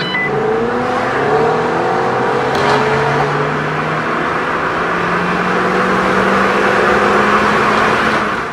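A 2013 Shelby GT500 accelerates hard, its engine note climbing steadily through the gears with a strong, continuous roar close by and no voices.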